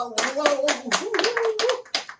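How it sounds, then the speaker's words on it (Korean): Enthusiastic applause from a small studio group opens a Korean metalworkers' union talk show, a dense run of sharp hand claps with a voice calling out over it. "힘차게 박수 치면서 시작하도록 하겠습니다"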